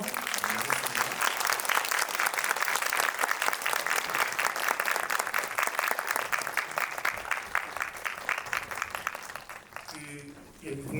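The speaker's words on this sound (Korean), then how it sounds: "이와이 슌지 감독님께 큰 박수 보내드리면서 마무리하겠습니다" An indoor cinema audience at a Lotte Cinema World Tower screening Q&A applauds director Shunji Iwai with sustained, dense clapping that fades near the end as a voice speaks over it.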